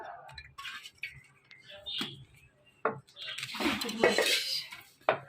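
A cooking pot clanks and scrapes onto a stovetop nearby, with several sharp metallic knocks and clatters.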